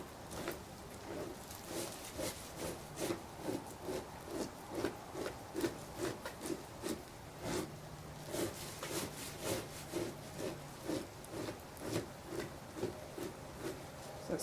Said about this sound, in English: Just push all that tissue and meat right off.